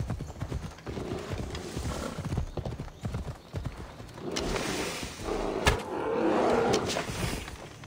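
Horse hooves clip-clopping in the video game Assassin's Creed Odyssey, a brisk rhythmic run of hoofbeats with a few heavier thuds, heard alone without talk.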